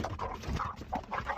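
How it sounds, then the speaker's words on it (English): A dog vocalizing close by in a home, a run of rough, throaty barks and grumbling huffs packed into a brief burst. "Why you barking like that?"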